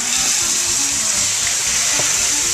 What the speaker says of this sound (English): Go ahead and pour that in.